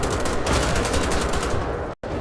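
Loud, rapid automatic gunfire during a shootout in Wolfenstein The Old Blood: a continuous stream of closely spaced shots, cut off abruptly by a brief silence near the end before resuming.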